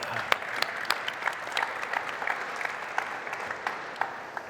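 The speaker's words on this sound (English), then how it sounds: "Why don't we give a round of applause and say thank you to our panelists today." Conference audience at GitHub Satellite 2019 applauds the panelists after an open source security panel, a moderate round of clapping with a few sharp individual claps standing out, fairly distant in a large room.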